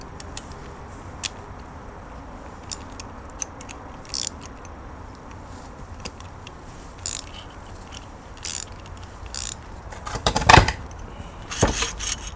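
A ratchet loosens motor mount bolts on a Ranchero, giving sparse, quiet clicks and short bursts of ratcheting over a low hum, with a few louder metallic clanks near the end.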